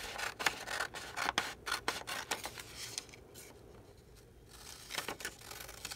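Paper scissors make a quick series of crisp snips as a picture is cut from a printed book page. A brief quieter pause falls before the cutting resumes, close and clear with no talking.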